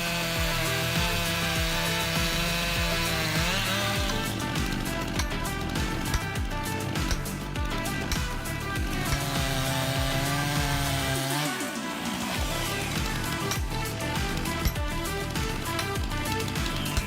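A large chainsaw cuts through a towering tree trunk, its engine a loud, steady snarl with pitch dips as it bogs under load, continuous and close throughout.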